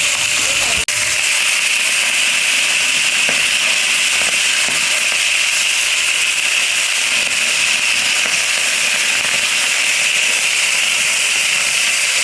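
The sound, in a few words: food frying in a pan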